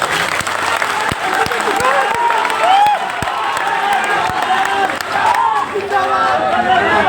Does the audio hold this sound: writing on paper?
no